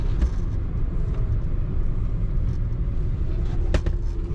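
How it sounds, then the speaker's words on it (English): Engine of a 1939 Cadillac Series 75 Imperial Sedan on the move: a steady, smooth low rumble with road noise, recorded from inside, with a brief sharper tick near the end. "Smooth, quiet engine. A little bit of maybe an exhaust tick when you're on the throttle."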